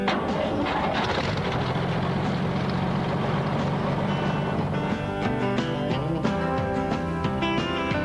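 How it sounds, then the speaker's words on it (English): An engine rumbles loudly and steadily throughout, a dense low drone with tonal, music-like layers joining in the second half. "Crank up the engine."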